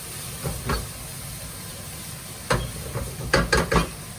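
Zucchini and mushrooms cook in a pan for a beef bolognese lasagne filling: a steady soft hiss of frying, broken by a few close clattering knocks of stirring near the end.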